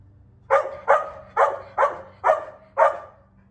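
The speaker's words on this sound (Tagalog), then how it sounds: "Pasensya na kayo sa aso, tumatahol." A dog barks six times in a steady rhythm, loud and close, the sharp evenly spaced woofs standing out against a quiet outdoor background in a garden of cabbage and other plants after rain.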